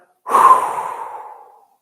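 A single deep yoga exhale pushed out through the mouth during a Kundalini breathing exercise, a breathy rush that starts strongly and fades away slowly over about a second and a half, close and alone.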